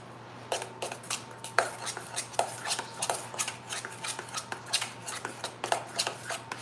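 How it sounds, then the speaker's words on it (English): A spoon stirring icing paste in a bowl, with a steady run of close clinks and scrapes against the bowl in a quick, uneven rhythm, with no talking. "and then you just mix it with your spoon"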